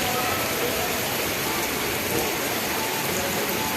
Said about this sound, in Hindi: हमारे दिल्ली तरफ तो बहुत तेज़ बारिश होती